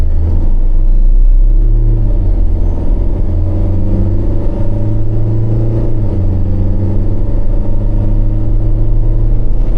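An Iveco Daily turbodiesel van loaded with about 2.8 tonnes accelerates at full throttle in eco mode, giving a loud, steady engine drone over low road rumble from start to finish, with no talking.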